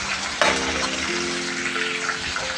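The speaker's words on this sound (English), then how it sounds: "then you need to deep fry the other set as well" Chicken pieces deep fry in hot oil with a continuous, dense sizzle and crackle close by. A soft clunk sounds near the start, and no one speaks.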